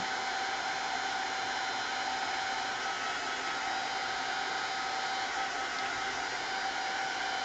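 A heat tool blasts air continuously to dry mixed media paint and black gesso on a craft tag, a loud, steady, close roar like a hair dryer throughout, with no voices.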